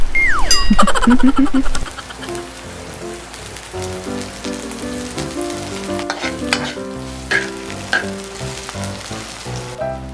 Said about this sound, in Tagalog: Gigisa lang natin yung bawang, sibuyas at luya.